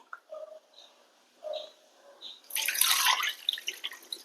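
Water poured into a mixer jar: a few soft drips and trickles, then a brighter, louder splashing pour that runs for a couple of seconds, close by.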